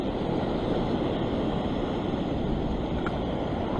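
Heavy ocean surf roars steadily at Whale Beach, Sydney, a rock-fishing spot exposed to big swells, with constant broadband wash and wind and no breaks or voices.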